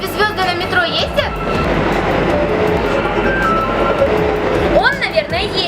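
A subway train rumbles steadily with rail noise throughout, while people talk over it; near the end a rising squeal sweeps upward.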